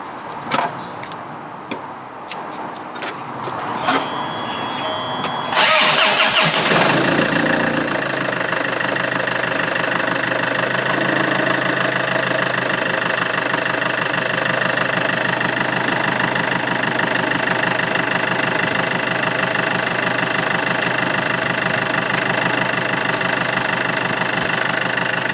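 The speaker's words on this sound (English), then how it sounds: "Now, time to start it up and see how it feels." A few clicks and a cranking starter, then a Land Rover Freelander engine catches and roars before settling into a steady, loud idle that runs on evenly.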